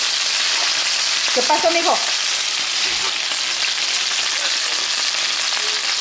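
Chicken legs fry in hot oil with a steady, bright sizzle throughout, while someone briefly speaks a short greeting early on over the crackling.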